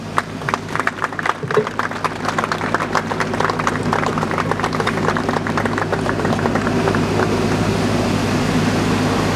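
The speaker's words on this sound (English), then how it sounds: "a round of applause for Mr. Quadropic" An audience in Kumasi, Ghana applauds after a speech, with scattered claps at first that build into steady, dense applause sustained to the end.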